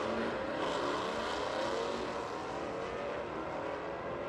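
A Dodge Hellcat on big drag tires and a Mercedes drag racing, a loud, steady, broadband engine roar at full throttle that holds for several seconds without talk.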